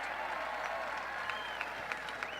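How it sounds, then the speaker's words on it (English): The audience at the 2004 Upper St. Clair High School graduation ceremony breaks into applause and cheering. The clapping sounds faint and somewhat distant, a dense crowd wash with a few louder claps standing out. "I knew I'd get a cheer on that one"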